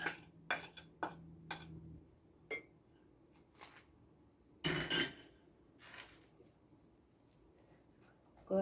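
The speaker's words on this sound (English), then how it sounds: "Go ahead and mix it up really well" A wooden spoon stirring an egg and flour mixture for rock cakes, heard as close, irregular knocks and scrapes against a bowl with quiet gaps between strokes.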